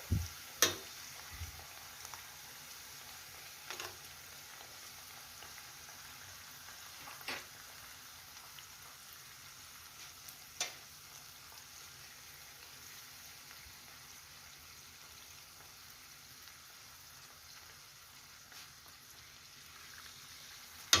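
Chebureki fry in oil in a pan with a faint, steady sizzle and crackle, broken by a few sharp pops and clicks, quiet and close.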